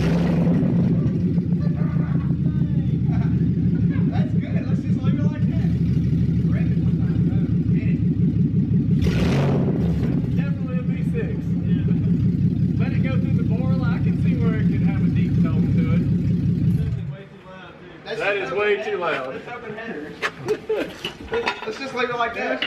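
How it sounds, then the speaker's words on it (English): A car engine idles with open headers, a loud, steady low rumble that runs continuously for most of the span before cutting off, followed by brief clattering and handling noises. "So we just started the car with open headers."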